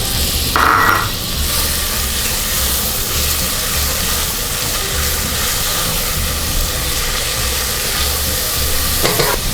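Finely chopped onion frying in hot butter and olive oil, a steady broadband sizzle with a brief louder burst near the start as it hits the pan, then continuous crackling stirred throughout.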